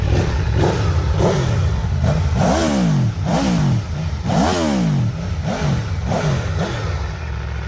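Aprilia Tuono V4 Factory 2021 motorcycle engine revving in repeated sharp throttle blips, rising and falling pitch sweeps, loud and close with no talk.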